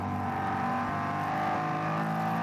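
A Ford 5.4-litre Coyote-derived V8 race car at the Nürburgring endurance series roars at full throttle, a loud, steady engine howl close by and alone.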